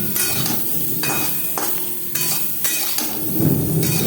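Potatoes frying in a pan with red chili powder, a steady sizzle and crackle broken by stirring scrapes and utensil clatter, close and continuous with no voices.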